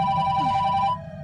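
A phone rings with a steady electronic tone over a low background rumble. The ring stops abruptly just before the end.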